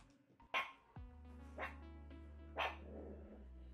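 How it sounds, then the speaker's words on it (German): A dog barks three times in short, loud bursts spaced about a second apart, with a low steady hum underneath and no talking. "Gefährlicher Hund."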